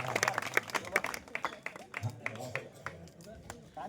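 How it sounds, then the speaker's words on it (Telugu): Scattered audience clapping at a calendar launch in an Ayyappa Swami temple, irregular sharp claps of moderate loudness mixed with a speaking voice. "చప్పట్లు కొట్టండి గట్టిగా"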